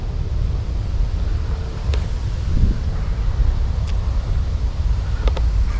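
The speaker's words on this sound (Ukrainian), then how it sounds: "Дуже сильний боковий вітер, дуже заважає." Strong crosswind buffeting the microphone while fishing, a loud rumbling roar with gusty swells and a few faint clicks, no voices.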